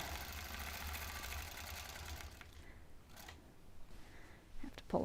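A quilting sewing machine stitches a wave pattern, its needle whirring rapidly and continuously at moderate level for a couple of seconds before fading to quieter clicks and handling sounds.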